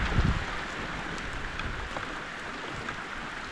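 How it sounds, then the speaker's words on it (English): A heavy rainstorm pours down at a camp during a canoe trip, a dense, constant roar of rain with a brief louder rumble at the start and no voices. "Holy crap, that's a lot of rain."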